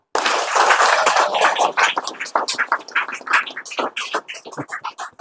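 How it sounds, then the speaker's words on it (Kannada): Audience clapping and cheering at a crowd event, dense applause that swells near and loud, then breaks into uneven bursts that thin and fade. "ದೊಡ್ಡ ಚಪ್ಪಾಳೆ ಹೊಡಿರಿ"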